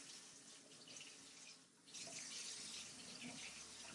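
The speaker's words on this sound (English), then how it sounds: "I have water. I have a tap." Water streams steadily from a newly installed kitchen faucet into the sink, a continuous hiss that grows louder and fuller partway through as the flow is opened up.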